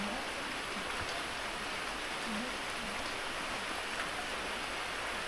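Heavy rain pours down in a steady, dense hiss that fills the whole clip, with no gaps or let-up.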